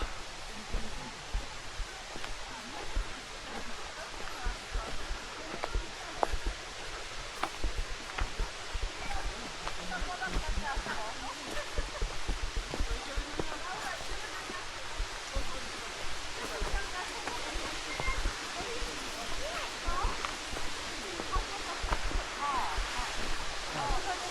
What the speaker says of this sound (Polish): O, tak dzisiaj wygląda wodospad Kamieńczyka.